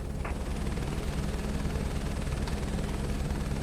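Helicopter rotor and turbine drone steadily at close range in Microsoft Flight Simulator 2024 as the aircraft lifts off, loud and unbroken with a constant rhythmic chop and no voices.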